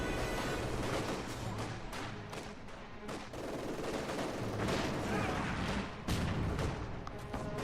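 An MG 42 machine gun fires in the Company of Heroes 2 battle game, giving dense rapid bursts mixed with other gunfire and booming explosions, loud and continuous throughout.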